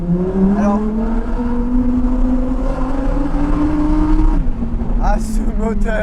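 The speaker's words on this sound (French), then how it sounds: "Ah, ce moteur, c'est quand même génial de pouvoir profiter de ce V10 atmosphérique, sans filtre à particules." Lamborghini Huracán Performante with a naturally aspirated V10 and no particulate filter, accelerating on the road: a loud, sustained engine howl that climbs steadily in pitch, briefly drops at a shift, then builds again, heard from inside the car.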